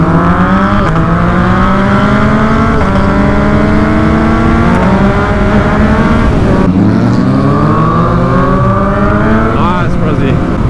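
Yamaha MT-09 motorcycles, one of them tuned, ride in a group, their engines and exhausts droning steadily with rising and falling revs throughout, loud and close, with a rider's voice heard over the engines at times.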